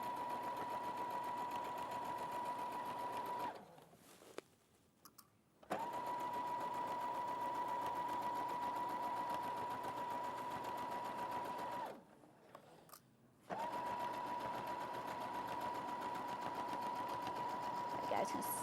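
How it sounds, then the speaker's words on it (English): A sewing machine runs a seam in two long steady bursts with a short pause between, its even motor whine and needle rhythm close and clear, with no talk over it. "Just going to sew that along, forward and back to lock it in as usual."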